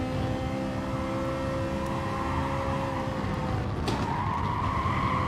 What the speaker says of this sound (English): the Scirocco is super stable with the curves, but then this car slides quite a lot